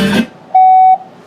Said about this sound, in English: Balance it out, let it beep.